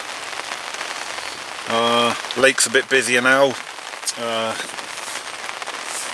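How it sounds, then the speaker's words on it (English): Heavy rain falls steadily at a lake, a constant close hiss of drops on a surface throughout, with someone talking briefly over it. "this weather just really has not stopped today. It's just been heavy rain all day."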